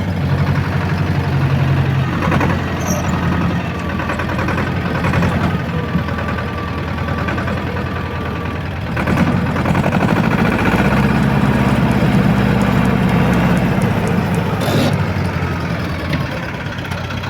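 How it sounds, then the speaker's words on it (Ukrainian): A T-25 tractor engine runs steadily and loudly under load while pulling a rotary tiller through soil, with a continuous low rumble that swells slightly partway through and carries no talk. "трактору саме важче фрезу."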